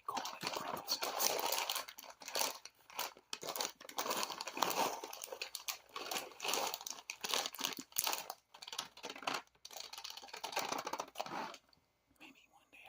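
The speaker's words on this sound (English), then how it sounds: "I always like crinkle sounds" Soft crinkling and crumpling of material, close and continuous with brief pauses, accompanied by faint whispery breaths in an intimate ASMR-style recording, trailing off into near silence at the end.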